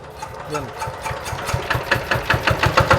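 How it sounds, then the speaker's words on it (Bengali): A second-hand diesel engine, lightly used on a generator, cranks and catches, settling into a quickening, even chugging thump that grows louder over a few seconds, with a brief voice early on. "তাহলে আমরা এখন এটা স্টার্ট দিয়ে দেখাই ইঞ্জিনটা"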